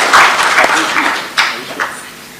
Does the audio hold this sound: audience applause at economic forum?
yes